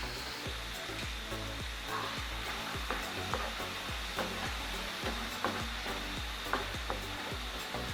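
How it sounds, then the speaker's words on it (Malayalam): Fried chicken 65 being stirred into masala in a pan, with a steady sizzle and repeated spatula scrapes knocking against the pan in a regular rhythm, close and moderately loud. "ഇതിലേക്ക് നമ്മൾ വറുത്ത് കോരി വെച്ച ചിക്കൻ എടുത്ത് മിക്സ് ചെയ്യുക."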